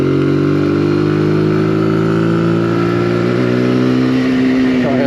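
A Zontes ZT125GK motorcycle engine drones loudly and close, its pitch climbing gradually as it accelerates steadily with no pauses.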